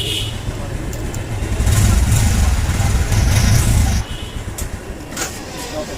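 Bajaj motorcycle engine running with a noisy fault under adjustment, a close, loud low rumble that holds for about four seconds, then drops to a quieter idle.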